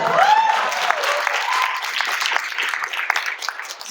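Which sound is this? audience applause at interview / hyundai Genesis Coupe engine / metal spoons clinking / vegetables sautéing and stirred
audience applause at interview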